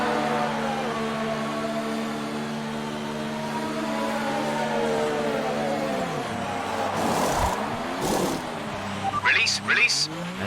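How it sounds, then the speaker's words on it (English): Formula 1 car in the F1 2019 video game engine droning steadily with harmonic whine, then the engine note dropping and shifting around 6–8 s as the car enters the pit lane, with brief higher bursts near the end; speech likely present underneath. "this is where we're going to come in and make our pit stop"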